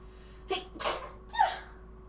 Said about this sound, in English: Let me sneeze right in your ear.